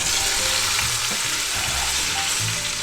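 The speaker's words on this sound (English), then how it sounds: "ready to saute, so we're going to take our meat and lay it right in there" A beef roast sears on the sauté setting of an Instant Pot, giving a loud, steady sizzle close up with faint shifting thumps as the meat settles, and no voices.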